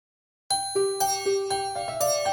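A bell chimes midnight in a Cinderella fairy tale, bright struck tones ringing out one after another at a steady pace and overlapping as they decay, clear and fairly close, with no speech.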